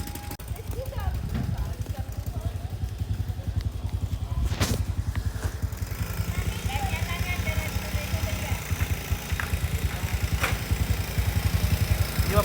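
A motorcycle engine idles nearby in a steady, rapid low putter that continues throughout. Adults and someone talk over the engine.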